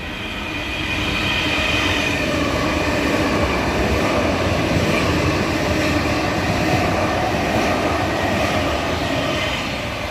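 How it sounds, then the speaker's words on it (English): A Sydney electric train bound for Bondi Junction thunders through Kogarah station without stopping, its steady roar of wheels and motors loud and close for the full ten seconds. "now about to rocket past platform 3, Bondi Junction via Walleye Creek service"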